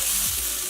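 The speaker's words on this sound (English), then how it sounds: "we're going to continue cooking the green beans and the onions for another minute or 2" Green beans and onions fry in a pan for a sesame beef dish, making a brief, loud, steady sizzle with no talking.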